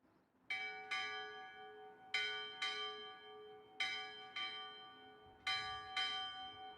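A bell rung at a maritime college commencement ceremony, struck in three pairs of clear ringing strokes with long decaying tones, fairly faint and distant in a quiet hall.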